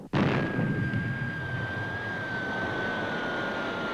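Retro rockets of the Fireball XL5 spacecraft fire on landing with a sudden loud roaring blast that holds steady, broadband and sustained, with a thin whistling tone running through it.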